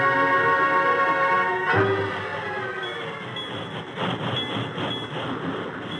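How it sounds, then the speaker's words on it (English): A train rumbles along the rails, its steady mechanical roar shifting as it slows, with a brief clunk partway through. "the train slowed to a stop"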